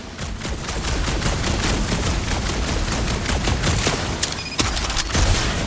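Sustained rapid gunfire from Peter in the Guardians of the Galaxy video game, a dense continuous barrage of shots at steady loudness, with a sharp louder crack near the end.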